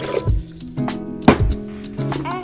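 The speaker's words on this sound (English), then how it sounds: "Throw those in there. And 2 cups of water." Two cups of water poured into a blender over soaked cashews, a short splashing fill that comes in a few bursts over a steady tonal background.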